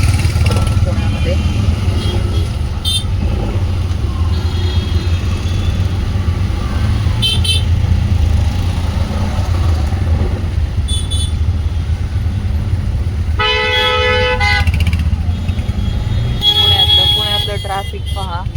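Busy road traffic in Pune on an overcast pre-rain day, with a steady engine rumble, several short car horn toots standing out through it, and people talking nearby.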